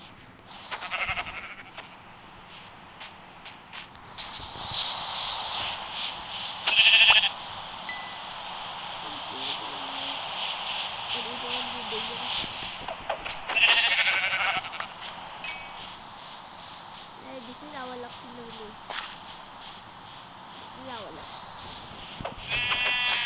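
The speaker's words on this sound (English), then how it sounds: "Tasty, tasty sheep." Sheep in the Minecraft video game bleat repeatedly, several short baas scattered across the scene, mixed with footsteps and game sounds while a person talks over them.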